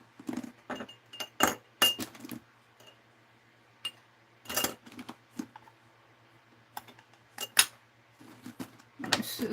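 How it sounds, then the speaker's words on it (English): Small metal pins dropped and tipped into a lidded plastic container, giving sharp scattered clinks and rattles in irregular bursts, close and fairly quiet, with short pauses between handfuls. "I'm going to take the lid off and put these pins in there"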